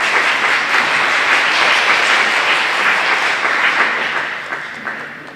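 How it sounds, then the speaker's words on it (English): An audience at a 2017 school spelling bee gives the remaining contestants a loud, sustained round of applause that fills the room, then slowly tapers toward the end. "I think they deserve a big round of applause."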